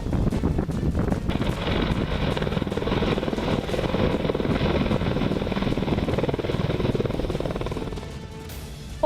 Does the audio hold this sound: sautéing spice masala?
no